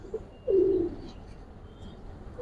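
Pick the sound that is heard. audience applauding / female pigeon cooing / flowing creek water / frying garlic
female pigeon cooing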